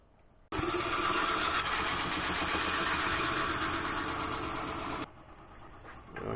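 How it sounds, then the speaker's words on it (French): A Kitty 660 lathe drilling at low speed, around 400 to 600 rpm, with a steady loud mechanical hum and grind that starts abruptly, holds for about four and a half seconds, then drops back to a quieter running drone. "c'est du perçage, donc on fait ça à petite vitesse, entre 400 et 600 tours grand maxi"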